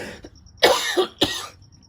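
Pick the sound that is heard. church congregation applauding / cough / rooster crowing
cough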